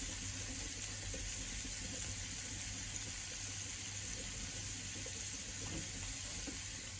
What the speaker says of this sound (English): I'm going to put a little bit of water onto this